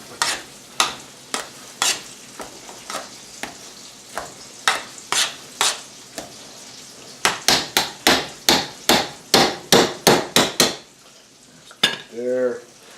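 Potatoes being mashed with a spoon or fork while milk is stirred in: steady, fairly loud thumping strokes against the bowl, quickening into a faster run midway, then stopping with a brief squeaky scrape at the end.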